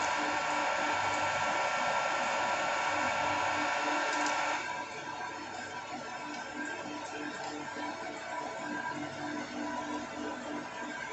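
A metal lathe runs steadily while turning a flywheel for an air engine, giving a continuous, fairly loud whirring hum whose tone shifts and drops slightly partway through, with no one speaking over it.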